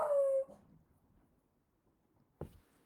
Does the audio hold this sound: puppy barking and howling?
yes